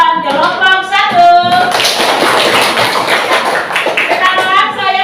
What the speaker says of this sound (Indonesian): kita berikan tepuk tangan kepada jawaban kelompok 1